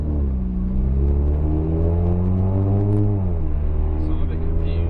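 Supercharged Mercedes SLK engine running while driving, a loud steady rumble whose tones rise and then dip, heard from inside the car with a person talking over it.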